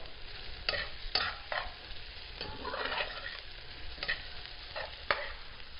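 Onions sautéing in a pan while making meatloaf, a soft steady sizzle with scattered scraping and stirring clicks, close and moderate, no voices.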